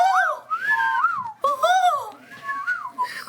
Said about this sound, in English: I can really whistle really well through this mask.